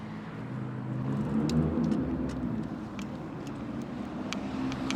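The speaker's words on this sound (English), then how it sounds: "Now you have people who think driving their fancy cars and Lamborghinis through Midtown." Lamborghini sports car driving through Midtown Manhattan, a low engine rumble that swells and then holds steady amid busy street noise, moderately near with no talk.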